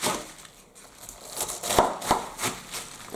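A knife chops cabbage by hand on a board, giving a series of sharp, close, irregular knocks and crunches with short quiet gaps between them.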